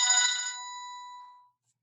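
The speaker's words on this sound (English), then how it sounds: "I was going to edit that out, that phone call" Telephone ringtone sounding once, a short bright electronic trill that rings clearly, then decays and cuts off into silence.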